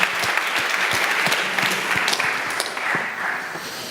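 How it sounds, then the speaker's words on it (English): A conference audience applauds a blockchain panel, a loud, continuous roar of many hands clapping with a few sharper individual claps standing out, near and filling the room. "And big applause."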